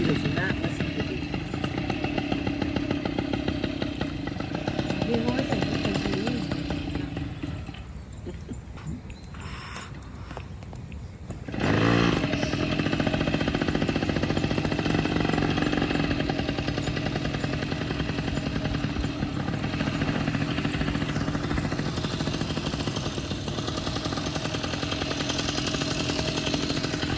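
A small engine runs loud and buzzy near the start of a race, sags and dips for a few seconds, then comes back strongly and keeps droning, with voices talking over it.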